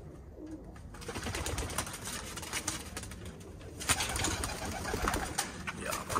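Pigeons of the Cheeny, Jugnu and Teddy breeds coo softly and steadily, close by, under a constant wash of background noise.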